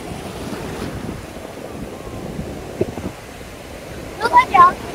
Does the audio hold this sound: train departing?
no